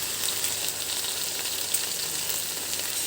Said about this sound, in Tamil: பொட்டேட்டோ வந்து ஃப்ரை ஆகிட்டே இருக்குது